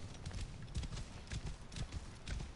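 Horse hooves clip-clop at a steady walking rhythm in Assassin's Creed Origins, close and fairly loud, with repeated soft thuds over a low ambient game background.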